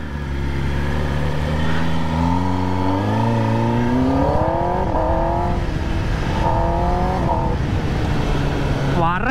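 Kawasaki ZX10R superbike fitted with a new aftermarket exhaust, revving loudly up and down in a continuous deep engine roar with rising and falling pitch sweeps.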